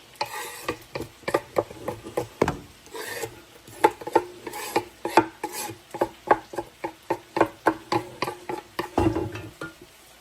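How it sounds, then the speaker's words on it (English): Ground turkey and chopped onion worked together in a bowl, giving a steady run of soft, wet squishing and scraping strokes in a quick, even rhythm, close by and with no talking. "into this ground turkey, I'm going to add the rest of the onion"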